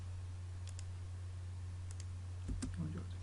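Keys tapped on a computer keyboard while entering AutoCAD Civil 3D commands: a few sparse, light clicks over a steady low electrical hum, with a brief cluster of louder taps near the end.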